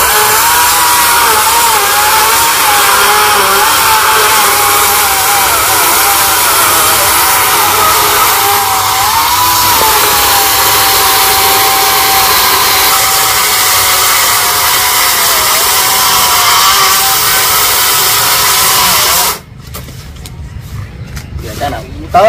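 A gasoline chainsaw cuts through a coconut palm trunk, its engine droning loud and close with a steady, slightly wavering whine before cutting out abruptly near the end, followed by scattered thuds.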